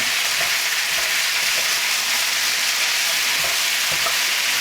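Loud, steady sizzling of potatoes frying with bacon in a hot pan, a continuous crackling hiss with small pops and occasional scraping stirs.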